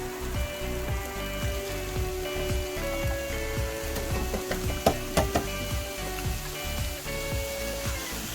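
Mushrooms fry in a pan while being stirred, a steady close sizzle with rhythmic scraping and clinks of a utensil against the pan, and a few louder knocks near the middle.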